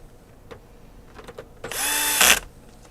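A power drill works on game console screws, a few quiet clicks and taps, then one loud, steady high-pitched whir for just under a second that stops abruptly.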